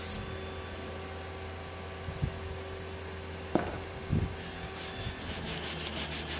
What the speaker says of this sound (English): This is just some cheap 60 grit drugstore sandpaper here